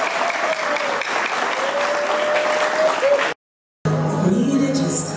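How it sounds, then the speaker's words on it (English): A large audience applauds a cultural performance by a Burundi community group at a New Zealand festival, a loud, steady wash of clapping that cuts off suddenly and then gives way to other sound. "Why don't we give them a big round of applause?"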